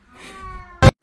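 A pet cat gives a short meow close to the mic, a faint drawn-out tone first, then one loud sharp call, then a brief soft sound.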